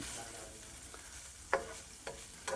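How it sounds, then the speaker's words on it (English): Crab meat being stirred over trout in a warm pan, with a low steady sizzle and a few short utensil scrapes near the end, close and fairly quiet. "all we're going to do is keep stirring this and just warm it up"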